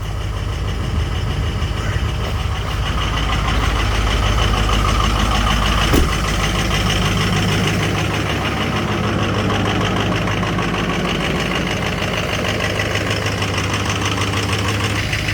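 A Jeep Grand Cherokee WJ engine idles roughly while warming up after a T-bone crash, a steady close mechanical drone with a faint knocking texture, running on alone without talk.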